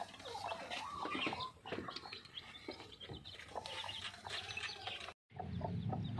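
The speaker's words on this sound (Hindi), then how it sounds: "हमारे चिक्स" Chicks kept on a setup that also holds rabbits cheep and chirp busily nearby, a dense stream of high calls with bits of clucking mixed in. There is a short dropout near the end.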